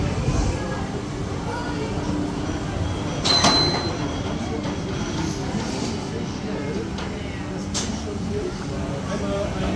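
A Vekoma mine train roller coaster at Phantasialand rumbles steadily along rails with a grinding roar and occasional squeals and clacks, heard from on board amid faint background voices.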